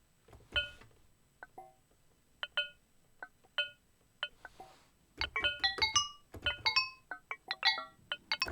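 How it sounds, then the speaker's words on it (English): Sparse, plucky bell-like synth notes from a Korg Wavestate with a very short envelope, pinging in a slow scattered sequence at first, then turning denser with quick overlapping chimes, clean and fairly quiet. "So there are 3 different samples which all play some bell-like sounds."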